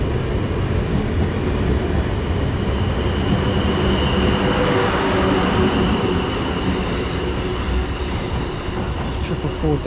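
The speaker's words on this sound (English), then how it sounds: "going out now is the 18:30 Southwest and Railway service from Weymouth" A South Western Railway train departs Poole for London Waterloo, a steady close rumble of wheels and traction with rhythmic rail clatter, continuous and loud throughout, with a voice faintly beneath.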